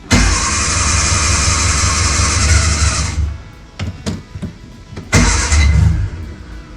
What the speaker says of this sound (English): to start it, I gotta push the clutch in. And this is the starter. And it takes a minute.